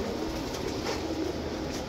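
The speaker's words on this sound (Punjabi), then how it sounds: "ਇਹ ਵੇਖੋ ਕਬੂਤਰ।" Pigeons in a market cage give soft, low cooing calls, faint and steady under a murmur of background noise.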